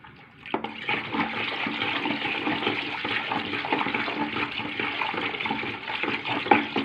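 Liquid NP9 is poured steadily into a phenyl concentrate mixture, a continuous close sloshing, gurgling pour that carries on without pause.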